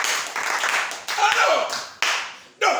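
A church congregation claps in bursts of applause, several distinct rounds of hand clapping separated by brief pauses, fairly close and lively.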